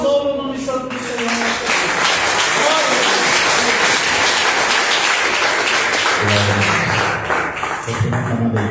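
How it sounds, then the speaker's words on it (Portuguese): A church congregation claps in sustained, dense applause that fills the room, while a voice is heard speaking at the start and near the end. "as palmas louvam o nome santo do Senhor"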